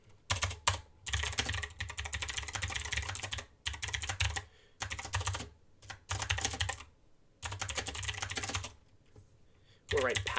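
Rapid typing of code on a computer keyboard comes in bursts of close, steady clatter separated by short pauses, with no talking.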